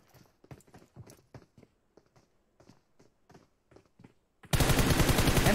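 Rapid hip-fire gunshots in PUBG Mobile: a run of sharp, evenly spaced shots, then a sudden loud, dense burst of continuous automatic fire that fills the last second.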